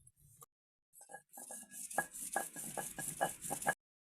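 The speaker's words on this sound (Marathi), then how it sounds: "आता पटापट वाटून घेऊ हे सगळं" Raw ginger, coconut and garlic masala ground by hand on a flat grinding stone for a fish curry, heard as rhythmic scraping and rubbing strokes that quicken into a steady beat, close by with no talk.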